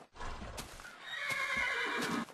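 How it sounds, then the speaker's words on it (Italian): Horse neighing in Minecraft, a single clear, fairly loud whinny with a rising and falling pitch, heard alone with a few soft hoof clops around it. "Poi io o sono cavalli?"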